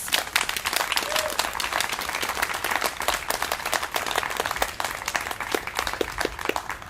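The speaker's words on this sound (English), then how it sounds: "So let's give them one more round of applause." A concert audience claps for student composers after a percussion and voice performance, with thick, continuous applause and sharp individual claps standing out near the front throughout the seven seconds.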